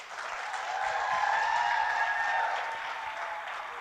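Luncheon audience applauding as a woman is introduced, a short burst of clapping that swells and then fades, with a faint tonal hum running underneath.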